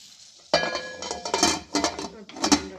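A spoon scrapes and clinks against a pot while mixed vegetable pulao with potatoes, peas and carrots is stirred, giving several close, uneven metallic scrapes and knocks.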